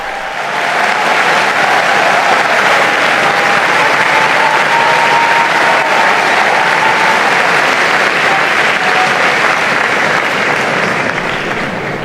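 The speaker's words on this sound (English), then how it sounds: "And with that applause, we conclude this live broadcast of Pope Leo XIV's meeting with media professionals" Sustained applause from a large audience of media professionals at a Vatican meeting with Pope Leo XIV, loud and even throughout, with a voice speaking faintly over the clapping.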